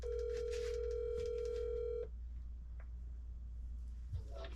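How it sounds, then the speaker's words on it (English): A phone call placed from inside a camper van on a rainy river trip: a steady ringback tone sounds for about two seconds, then stops, followed by quiet line noise and a faint click. "Time to call Corey"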